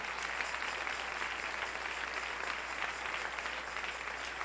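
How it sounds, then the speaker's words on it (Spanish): A church congregation applauds together in a dense, continuous wash of clapping that stays steady and fairly loud throughout, with no pauses. "Dele ese aplauso al Rey en esta preciosa y hermosa mañana"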